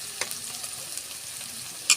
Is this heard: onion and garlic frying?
yes